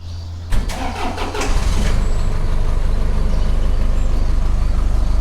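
Farm truck engine starting near the farm on a morning run to Columbus, Ohio: a short cranking stutter, then a steady loud idle and rumble as it pulls away, no talking.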